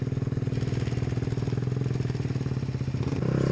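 A Kawasaki Vulcan 500 motorcycle idles nearby with a rapid, even pulsing engine beat, loud and steady, briefly rising in pitch and volume near the end as the throttle opens.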